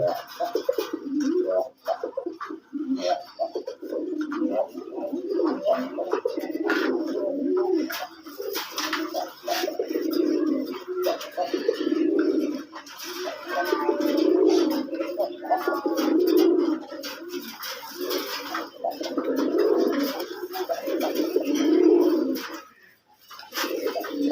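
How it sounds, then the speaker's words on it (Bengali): Rajgolla pigeons, a male among them, coo repeatedly at close range in soft, throaty bursts over several seconds, with faint chirps and a low background hum. "স্ক্রিনে যে কবুতরটা দেখতেছেন সেটা একটা নর কবুতর এর মাদিটা আছে আমার হাতে"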